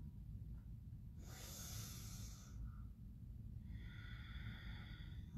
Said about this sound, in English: Let's take a deep inhale, sigh it out or exhale.